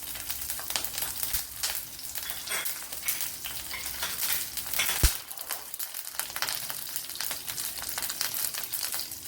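Three mild green chillies hitting hot oil in a pan while making a snake gourd and long bean thoran, giving a steady close crackling sizzle with stirring, a brief sharp clack midway, and no talking.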